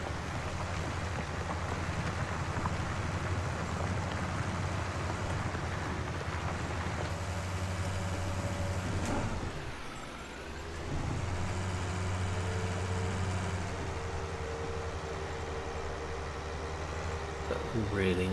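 Tractor engine in Farming Simulator 19, a steady loud drone with harmonic hum that dips and loses revs briefly while coming downhill, then resumes its even running tone.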